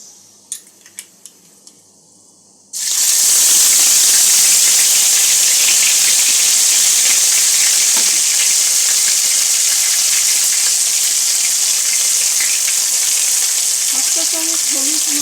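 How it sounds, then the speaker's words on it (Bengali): Ginger garlic paste dropped into hot oil for a fish curry, after a dried chilli, over a low to medium gas flame, bursting into a loud, steady, close sizzle after a few soft clinks and holding throughout. "আদা রসুনের পেস্টটা দিয়ে দেবো।"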